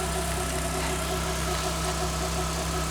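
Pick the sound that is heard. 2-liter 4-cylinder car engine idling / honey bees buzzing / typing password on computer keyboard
2-liter 4-cylinder car engine idling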